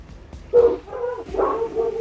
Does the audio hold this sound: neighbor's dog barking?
yes